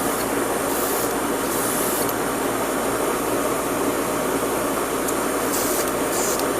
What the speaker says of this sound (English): Let's see how it looks once we spray it.